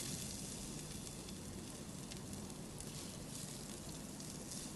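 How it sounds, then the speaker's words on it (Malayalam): Ginger garlic paste sizzling in hot oil in a pan over a low flame, giving a faint, even, continuous hiss with no pauses. "ഒരു ചട്ടിയിലോട്ട് നമുക്ക് കുറച്ച് ഓയിൽ ഒഴിച്ച് കൊടുക്കാം. എന്നിട്ട് അതിലോട്ട് നമുക്ക് ഇഞ്ചി വെളുത്തുള്ളി പേസ്റ്റ് ആഡ് ചെയ്യാം."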